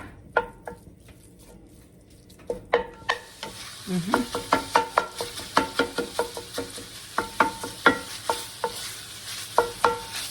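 Loose sausage from Butcher Box being broken up with a utensil in a hot pan, heard as rhythmic scraping and tapping strokes over a soft sizzle after a quieter start, close and clear.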